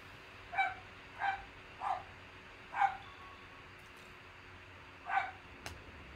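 A dog barks five times in short, separate bursts spaced over several seconds, heard from some distance against a quiet background with no howling evident.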